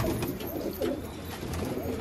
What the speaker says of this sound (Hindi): ये देखो भाई, ये मेरा बहुत पुराना कबूतर है गुलाबी।